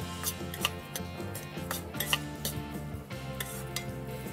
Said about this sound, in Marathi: कढईला जे तूप लागले त्याच्यावरच आपल्याला हे तांदूळ परतून काढायचे